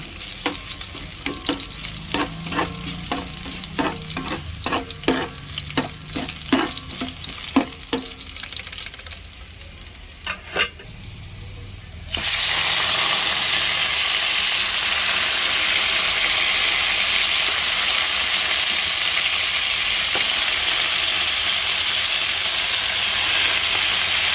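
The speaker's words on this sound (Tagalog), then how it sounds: "Tapos ipa-fry po natin sandali yung beef ano" Beef fries in a hot pan: a spatula scrapes and clicks in a quick rhythm over a sizzle, then a loud, steady, hissing sizzle takes over and runs on alone, close up.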